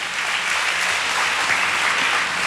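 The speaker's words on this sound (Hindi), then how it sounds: "तालियां बजाकर परमेश्वर को धन्यवाद दीजिए।" A church congregation at a Sunday service in Kolkata claps steadily together, a dense, continuous wash of applause in a room, without any voices.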